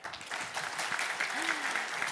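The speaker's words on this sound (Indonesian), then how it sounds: "Tepuk tangan." Audience applause at a university professor's inauguration ceremony, a steady patter of many hands filling the hall, with a faint voice or tone sliding briefly in the middle.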